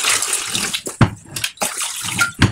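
Tap water gushes into a flower vase in uneven bursts, with splashy rushes stopping and starting and a few louder splashes, close and fairly loud.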